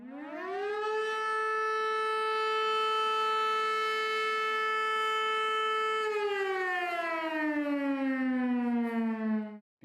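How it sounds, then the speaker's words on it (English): A civil defense siren sounding the attention everyone emergency signal: a loud, steady wailing tone held for several seconds, then gliding downward in pitch, continuous and alone. "The only signal during any emergency is the attention everyone signal."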